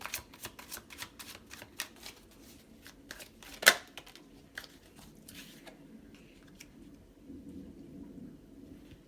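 Pick-a-card reading cards are shuffled and drawn, with a run of soft, close riffling flicks and one sharper snap, then quieter handling.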